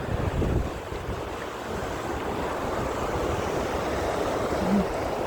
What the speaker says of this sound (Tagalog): Dito na kami sa may waterfalls.